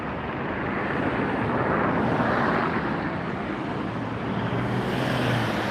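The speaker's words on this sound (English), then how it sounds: "What you see taxiing in front of you is the Lufthansa A340-900." A Lufthansa A340-900 airliner taxis at LAX, a steady, loud, broadband engine roar and rumble that holds evenly for nearly six seconds with no speech.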